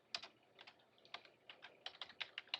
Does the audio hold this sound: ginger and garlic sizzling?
no